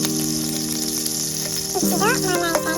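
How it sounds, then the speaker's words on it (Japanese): Sausages fry in a pan with a steady sizzle throughout, joined near the end by a few clinks and scrapes as they are moved around, with music playing underneath. "ウインナーを炒めます。"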